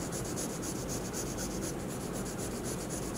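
Pencil lead scratches hard and continuously across paper while shading the darkest tones in a portrait drawing, a dense close rasping stroke sound with a quick back-and-forth rhythm.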